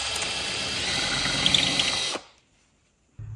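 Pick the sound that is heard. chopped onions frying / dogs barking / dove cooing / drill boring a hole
drill boring a hole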